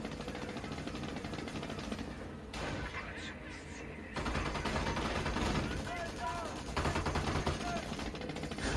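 Machine gun and rifle fire crackle in a Company of Heroes match, bursts of rapid popping under commentators' talk, with distant blasts in the background.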